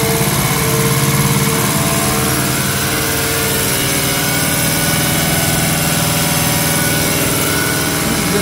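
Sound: diesel injection pump running on test bench

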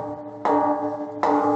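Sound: ancient cathedral bell ringing

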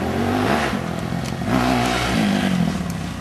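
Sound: XR 200 race motorcycle engine being bump started and revving

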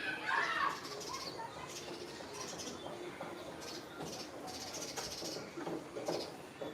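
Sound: sparrows chirping

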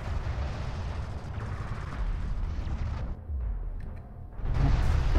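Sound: railgun fire in video game Desert of Kharak

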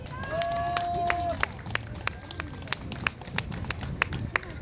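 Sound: audience applause at a rally

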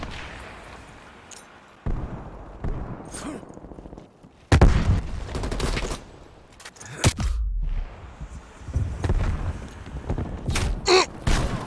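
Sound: SMG gunfire in video game Call of Duty: Black Ops Cold War

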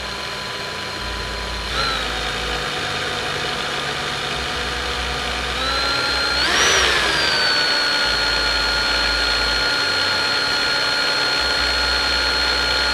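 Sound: drill boring a pilot hole into a lock

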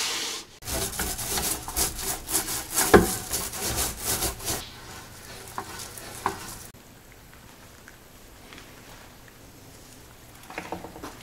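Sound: tack cloth being wiped across a battery cabinet surface

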